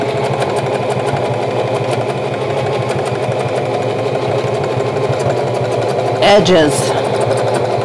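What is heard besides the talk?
sewing machine free motion quilting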